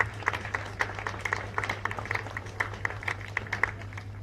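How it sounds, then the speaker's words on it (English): Audience at an annual dinner and awards night clapping to welcome the President, a steady round of applause from a seated crowd, moderately loud with dense overlapping claps over a low hum. "can we once again give a round of applause to welcome the President?"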